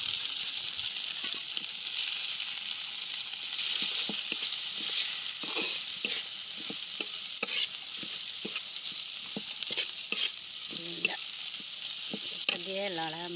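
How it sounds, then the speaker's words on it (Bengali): Turmeric being stirred and an egg frying in a pan, a steady sizzle with repeated scraping clicks of a spatula against the pan, close and clear. "হলুদটা একটু নাড়িয়ে দিয়ে তারপর একটা ডিম ভাজ দেব।"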